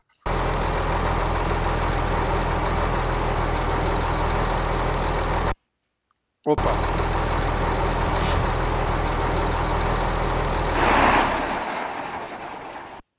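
Diesel truck engine in Euro Truck Simulator 2, a continuous low rumbling idle that drops out briefly, resumes, then fades with a burst of hissing air near the end; a man exclaims once.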